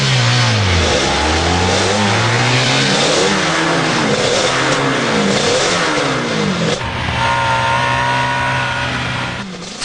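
A Nissan car accelerates hard on a race track, its engine revving loud and close with rising and falling pitch sweeps as it shifts through gears, no voices over it.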